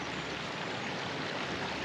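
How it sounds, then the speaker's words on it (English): Running water of mountain streams on a fell walk around Grizedale Pike and Hopegill Head, heard as a steady, even rushing wash that carries on alone without a break. "There's a sound of running water everywhere."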